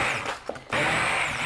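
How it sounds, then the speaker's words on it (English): A stick blender pulses through a pot of cooked red beans and rice with a loud, steady whir, cuts out briefly, then kicks back in at full strength. "I'm going to take my stick blender and I'm just going to head and pulse it a couple of times"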